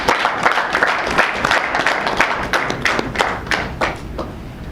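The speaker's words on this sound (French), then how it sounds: "je voudrais vous inviter à vous acclamer fort" An audience gathered for the close of a national workshop in Mali claps loudly and steadily. Many hands produce a dense patter with crisp individual slaps, and the applause tapers slightly toward the end.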